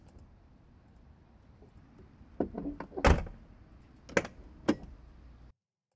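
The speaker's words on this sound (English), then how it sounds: "Actually need a quick opening door sound." Quick door opening sound effect: a short cluster of sharp clicks and a latch-like knock, then two crisp separate ticks, heard alone against a quiet background.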